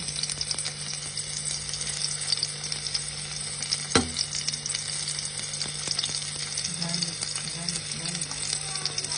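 Garlic frying in a pan gives a steady soft sizzle throughout, with a sharp clack near the middle and a voice speaking quietly over the cooking.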